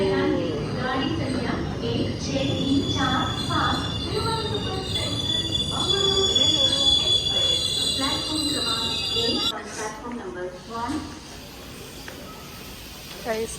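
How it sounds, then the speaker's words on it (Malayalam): A train pulls into a station with rumbling wheels and high metallic squeals over a busy, noisy platform, ending in a sudden drop to quieter ambience. "ട്രെയിൻ എത്തി."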